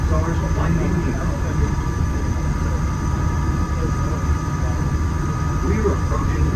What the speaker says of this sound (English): We're approaching the Epcot monorail station.